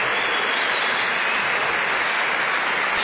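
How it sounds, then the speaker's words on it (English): Sporting applause from the crowd at a boxing match in Altrincham, a dense, continuous roar of clapping that stays loud and steady throughout with no pauses. "Sporting applause"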